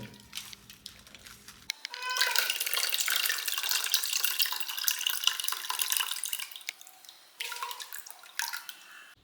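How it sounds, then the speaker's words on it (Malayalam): Water poured over tamarind for Vishu puliyinji, then squeezed out by hand: a steady splashing pour runs for several seconds, pauses, and returns as a shorter burst near the end. "കുറച്ച് വെള്ളം ഒഴിച്ചിട്ട് വീണ്ടും നമുക്ക് പിഴിഞ്ഞെടുക്കാം"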